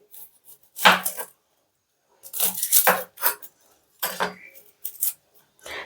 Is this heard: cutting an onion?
yes